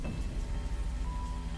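Steady, dense rain pours down without a break, a continuous hissing wash of drops with a low rumble beneath it and no voices.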